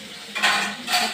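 A metal spoon stirs ridge gourd strips in a pan with spices, giving two short scraping bursts against the pan, close and fairly loud.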